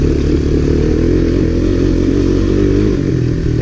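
Several 1985 Honda ATC three-wheelers, including an ATC250SX, ride a trail by a small lake with a loud, continuous close-up engine drone, mid-pitched and steady with a rough, throbbing low end.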